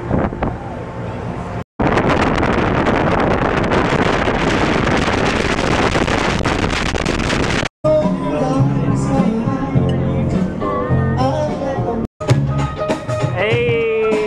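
Loud wind roars across the microphone in heavy gusts, broken by brief cuts, with voices and outdoor activity partly audible beneath the rumble.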